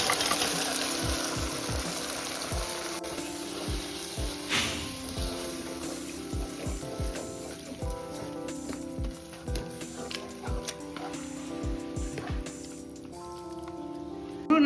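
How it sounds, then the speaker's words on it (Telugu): Boiled mutton kheema goes into a hot pan with ginger-garlic paste and sizzles steadily, close up, with scattered clicks and scrapes from a stirring spoon. "ఇప్పుడు మనం ఉడకబెట్టుకున్న కీమాని వేసేసుకోవాలి."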